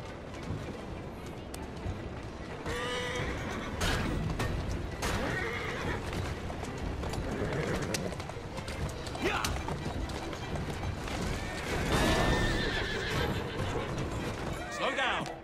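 Horse in Assassin's Creed Syndicate neighing and whinnying repeatedly, with clip-clopping hooves and movement beneath, while a voice speaks soothingly over it.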